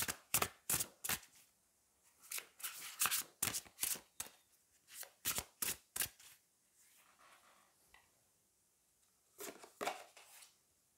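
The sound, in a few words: tarot cards being shuffled and drawn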